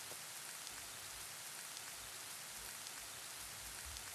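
Steady rain falls throughout the Pocket Mirror video game scene, a dense, even hiss of drops hitting surfaces, continuous and moderately loud with no voices.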